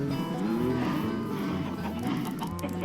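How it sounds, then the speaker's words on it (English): Regular cows mooing in a farming video game, long low bellowing calls that overlap and run continuously at close range. "The regular cows."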